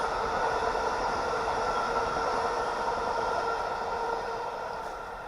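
A New Haven Railroad train rumbles past close by as a steady, broad roar of wheels and rail noise, loud and constant before easing slightly at the end, with no talking.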